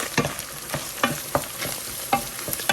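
Ground beef and onions sizzle in a pan while a utensil scrapes and stirs through them, with a steady frying hiss under repeated sharp clinks and scrapes roughly every third of a second.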